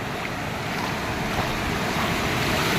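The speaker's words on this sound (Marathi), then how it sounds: "पाणी पण किती क्लीन आहे ना तर लाटा उसळतात" Ocean surf at Benaulim Beach, South Goa, roars steadily with wind buffeting the microphone, waves washing in continuously without any voices.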